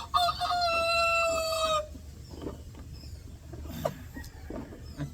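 A rooster gives one loud, close crow lasting nearly two seconds, followed by quieter clucking and scratching sounds.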